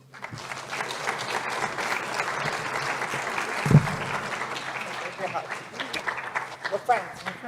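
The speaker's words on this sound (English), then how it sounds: "Please give a round of applause and a warm welcome" Warm audience applause welcoming a speaker at a college food security summit, sustained clapping from a crowd that softens toward the end, with voices talking over it.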